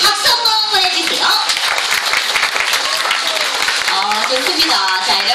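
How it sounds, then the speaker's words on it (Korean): Loud, continuous applause from an audience at a sea lion show, many hands clapping at once with a few voices calling out amid it. "여러분들 굉장히 많은 박수가 나온 것 같은데요"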